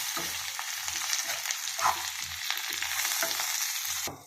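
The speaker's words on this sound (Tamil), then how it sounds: "கொஞ்சம் வதக்கிக்கலாம்." Steady sizzling of turmeric and chili powder sautéing in a hot pan with soft scraping and stirring, close by, cutting off abruptly near the end.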